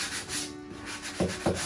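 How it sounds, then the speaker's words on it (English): Sandpaper rubs across the wood of a 1960s cabinet in short strokes, a soft scratchy rasp repeating a few times close by with no talk. "Sanding, ready for painting."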